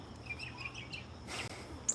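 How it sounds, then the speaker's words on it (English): A mockingbird sings from the top of a house roof on a neighbourhood morning, its faint, distant chirps and phrases repeating over a quiet outdoor background. "There's my mockingbird."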